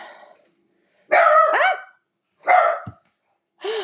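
A dog barks close and loud in three separate bursts, each a cluster of sharp, rising and falling barks with quiet pauses between them and no voices.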